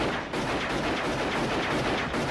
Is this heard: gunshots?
yes